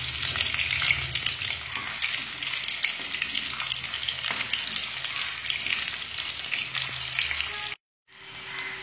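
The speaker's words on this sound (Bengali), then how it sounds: "যেহেতু এই আলু আমি ভাজবো না, হাই ফ্লেমে আমি করে নিচ্ছি" Potatoes sauté in a pan over a high flame, a continuous close sizzle with stirring scrapes, cut by a brief silence near the end before the frying resumes.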